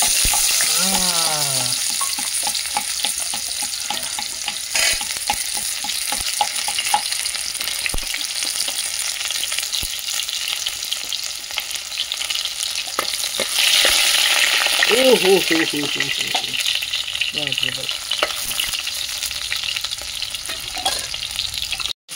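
Chopped onions sizzle in hot oil in a pan for a village-style chicken curry, with a steady, loud frying hiss throughout and occasional stirring scrapes.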